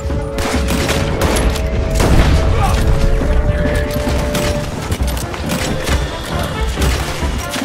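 Explosion and dense gunfire in the Western video game Red Dead Redemption 2, loud and continuous with repeated booms and crackling shots for several seconds, and no one speaking.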